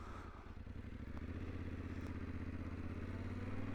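A Yamaha Tenere T700 motorcycle on a hot-day cruise, its engine droning in a steady low rumble that holds even and strong throughout, with wind and road noise layered over it.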